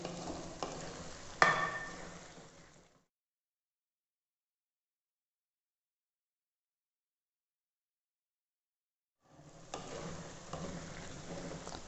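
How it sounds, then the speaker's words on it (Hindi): Mixed vegetables stir-frying in a pan for a home-style mix sabzi, a soft steady sizzle with occasional stirring scrapes, cutting out to silence midway before the frying returns. "सब्ज़ी अच्छे तरीके से भुन रही है। थोड़ी देर इसको और भूनेंगे"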